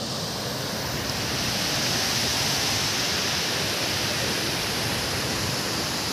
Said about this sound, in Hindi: पानी का आवाज आ रहा होगा, नॉइज आ रही होगी थोड़ी, तो उसको इग्नोर करना।